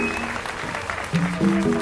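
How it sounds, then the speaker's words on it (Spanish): An audience claps for Eddie Martínez and the salsa orchestra Calibre, a dense burst of applause mixed with voices rising near the end. "¡Aplausos!"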